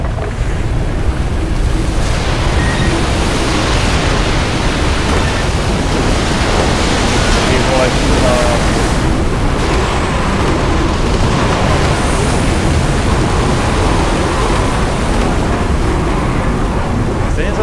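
Big crashing sea waves in the Call of Cthulhu video game, a loud continuous roar of surf and wind with no gaps, filling the whole stretch.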